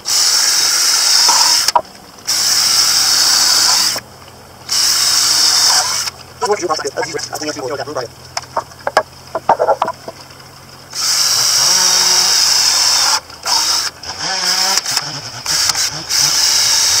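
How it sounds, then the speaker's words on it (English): Power drill pre-drilling holes in wooden awning boards cut at a 15-degree angle, several loud whining bursts of a few seconds each separated by gaps, with someone talking between them. "Alright, so I'm going to go ahead and pre-drill all these."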